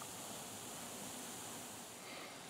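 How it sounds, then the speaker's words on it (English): A calcite specimen fizzes in an acid etching bath meant to expose natural silver, giving a steady, even hiss of fine bubbling with no pauses and no voices. "still bubbling a bit"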